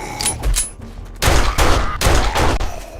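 Rapid bursts of gunfire while shooting undead in a video game, three or four loud clustered volleys with brief gaps, close and dominant with no talk.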